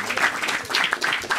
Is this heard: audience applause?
yes